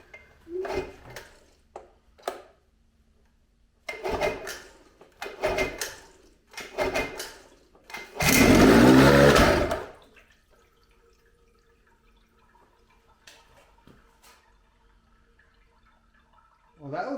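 Water splashes and drains from a 1979 Sea King 15hp outboard motor in a loud two-second burst, framed by scattered clicks and knocks, then a faint low trickle.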